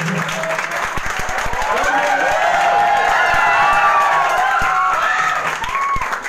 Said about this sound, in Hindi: जोर से तालियां, जोर से।